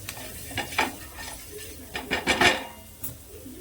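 Masala for egg bhurji is mixed in a pan, with intermittent spoon scrapes and clinks against metal over a faint sizzle, fairly quiet and close.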